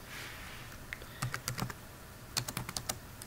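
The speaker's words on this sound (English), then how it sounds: "we're going to type in" Typing on a computer keyboard while a design is being made in a paint program, with a sparse run of clicky keystrokes, a pause, then a faster quick burst of keys, close and alone.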